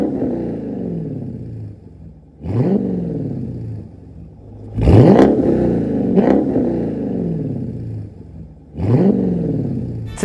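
A Dodge Challenger V8 with an MBRP Armor Lite cat-back exhaust and polished tips revs up in repeated bursts, each surge rumbling loudly and then settling back to a low idle between revs.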